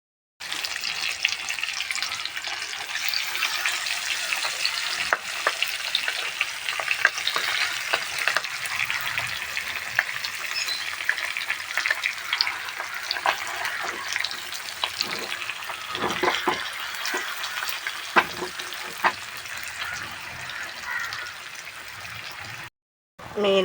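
Fish frying in a pan gives a steady, dense sizzle that runs almost unbroken for over twenty seconds, with scattered crackles and pops and a brief drop-out near the end.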